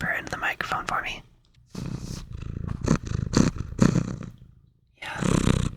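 A pet cat purrs up close to a microphone in a quiet room, low rumbling bursts that come and go between short silences, interleaved with soft whispering.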